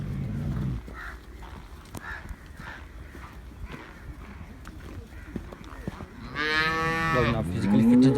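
A Girlendo cow on a farm in Pakistan lets out one loud, drawn-out moo near the end, after several seconds of quieter barn noise and faint voices in the background.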